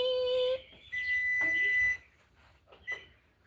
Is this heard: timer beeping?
yes